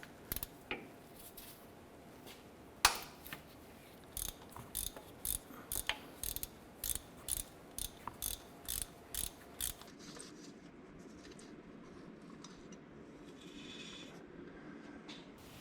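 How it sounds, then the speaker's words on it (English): A socket and ratchet loosen the 14mm idler pulley bolt during a timing kit and water pump job on a 2009-2015 Honda Pilot, giving a quick run of crisp ratcheting clicks in short bursts, fairly close and quiet, with no talk. "It's a 14mm bolt. I'm going to use our socket and ratchet for that."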